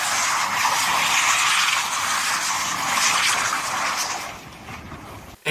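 A car doing donuts, its tires skidding and squealing in a loud, sustained broadband roar that holds steady for several seconds before easing off toward the end.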